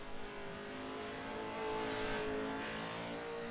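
Number 9 Pro 2 Lites race car in the racing sim iRacing at Limaland, engine droning steadily at high revs with a slight rise in pitch, close and continuous, with no talking.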